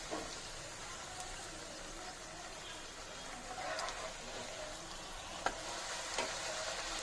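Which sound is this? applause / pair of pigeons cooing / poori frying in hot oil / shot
poori frying in hot oil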